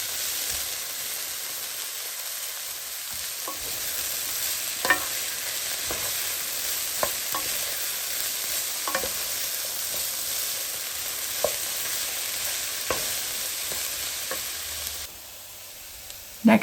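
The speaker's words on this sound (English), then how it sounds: "you're going to add in all of your yams and give that a really good stir, as well as the garlic and the thyme." Yams, mirepoix, garlic and thyme frying in a pan, a steady close sizzle broken by scattered scrapes and taps of stirring, with no talk, fading quieter near the end.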